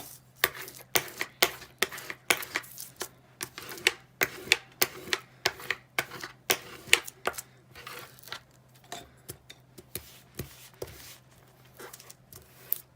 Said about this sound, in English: And you're just going to burnish that in again.